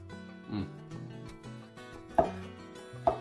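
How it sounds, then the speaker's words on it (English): A knife chops roasted squash roughly on a board, three sharp, separate strikes spaced about a second apart, close and clear over quiet background music. "gonna chop them up kind of rough"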